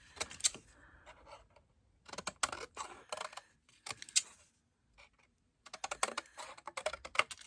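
Scissors snipping through cream card to trim off fancy edging, heard up close as bursts of sharp crisp cuts and paper rustles separated by short pauses.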